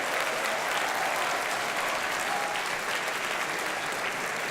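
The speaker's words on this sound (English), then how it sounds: "Let's give them another round of applause." An audience at a district installation ceremony gives officers a sustained round of applause, a thick, even wash of clapping from a large crowd that holds at steady volume without pause.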